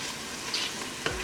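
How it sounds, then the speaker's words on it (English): Ginger and garlic paste, ground with a green chilli, fries in a pan with a steady soft hiss and faint crackle, heard close with no voices. "I'll let this ginger and garlic paste cook for at least a minute before adding the other ingredients."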